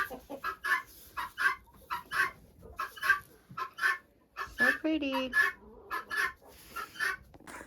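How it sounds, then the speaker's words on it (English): An older hen in a backyard coop clucks in a run of soft, rhythmic, fairly close calls, with a few longer drawn-out notes mixed in and a quiet voice speaking briefly. "This is one of the older hens."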